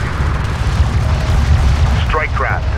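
Gunfire and explosions crackle through a battle in the strategy game Homeworld: Deserts of Kharak, a steady loud rumble of booms and shots with a brief radio-style voice cutting in near the end.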